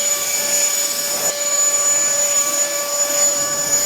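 A cordless jet fan blower for drying cars runs steadily at a higher power setting, giving a continuous jet-engine-like rush with a sharp, high-pitched whine, close and loud, with no talking.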